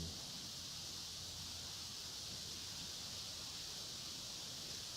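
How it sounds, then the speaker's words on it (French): Wind rushes steadily through leaves, mixed with the continuous low roar of a waterfall further off. No voices, just an unbroken wash of noise. "Le bruit du vent dans les feuilles. Une cascade un peu plus loin."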